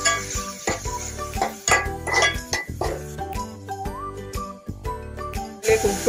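Metal spoon clinks and scrapes against a pan while chicken thoran with mustard seeds and curry leaves is stirred, with a soft sizzle underneath; close, repeated irregular clatters with no talking.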